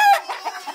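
A farm chicken gives a few quick, close clucks in a short burst, with no talk.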